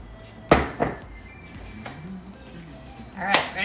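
A metal baking pan of keto lemon bar crust clanks sharply twice against an oven rack, followed by softer knocks and a final rattling clatter as the dish slides into place.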